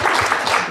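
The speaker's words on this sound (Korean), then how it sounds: "손보인 선생님께 한 번 더 박수를 좀 쳐주시고" Brief, dense applause from an audience at a public talk in Jeju, a steady burst of many hands clapping.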